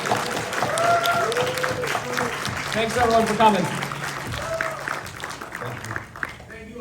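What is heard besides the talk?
audience applause for Bobby and Mike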